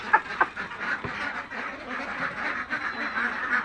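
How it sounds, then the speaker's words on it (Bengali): Ducklings on a farm that combines duck and chicken keeping with fish farming beside a pond in Nageshwari, Kurigram, quack in a busy, overlapping chorus. The calls are fairly close but soft, with a few louder peeps standing out near the start. "হাঁসের বাচ্চা"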